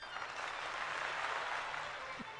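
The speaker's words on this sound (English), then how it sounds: "you hear the thunderous roar of applause coming from the audience" A large audience breaks into steady, unbroken applause, the dense wash of many clapping hands heard faintly and at a distance throughout.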